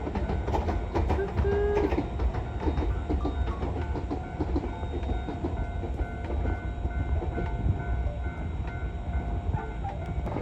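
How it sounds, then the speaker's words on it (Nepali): A train rolls past on rails with a loud, steady rumble and rhythmic metallic clatter of wagons, close by throughout. "ट्रेन।"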